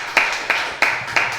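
Applause from a Pentecostal church congregation, four sharp, evenly spaced claps in a slow steady rhythm, close and clear.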